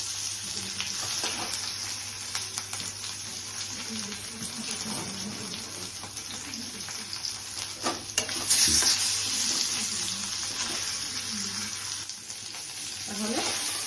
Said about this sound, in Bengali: লাস্টে লেজটাকে ফ্রাই করছি।